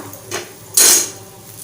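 A thepla flatbread made with methi leaves is oiled and flipped on a hot pan, heard as a soft tap followed by a sharp hissing sizzle that fades within half a second.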